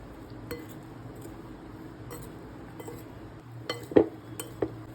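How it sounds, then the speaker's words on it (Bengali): Mushrooms being tossed with salt, chilli powder and flour in a mixing bowl: quiet, steady handling sounds with a few soft clinks, then two sharper, louder clinks near the end. "নুন, লঙ্কার গুঁড়ো, ফ্লাওয়ার একটু ভালো করে মেখে নেব, যাতে একটু কোট হয়ে যায় মাশরুমের গায়ে।"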